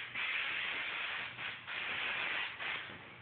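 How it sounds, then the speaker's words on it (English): 3M 77 spray adhesive hisses from an aerosol can onto fiberglass seams in three steady, close bursts with brief pauses between them, no talking. "Basically all you do is just spray the seams."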